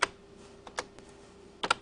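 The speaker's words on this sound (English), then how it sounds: "I'm going to hit the Q key on the keyboard" Keys pressed on a computer keyboard while working in LightWave 3D software, a few quiet, separate clicks spread over a couple of seconds with no talk.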